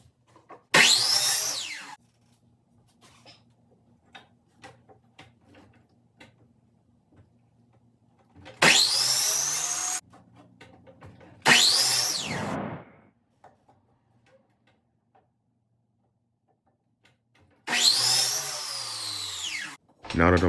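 A miter saw cuts wood trim for a handmade cabinet in four loud bursts, each a couple of seconds long with a spin-up whine, separated by quiet shop handling noises and faint knocks.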